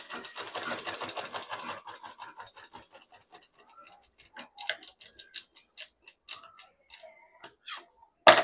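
A sewing machine stitches the side seam of a skirt in a fast run of ticking at first, then slows into separate mechanical clicks and taps close up, ending with a sharper knock.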